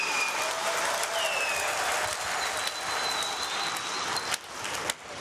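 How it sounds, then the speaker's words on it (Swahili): Members at a Young Africans club meeting applauding together, a dense burst of clapping that fills the room and then thins out into scattered claps near the end. "Tujipigie makofi kwa wote tunaosema ndio."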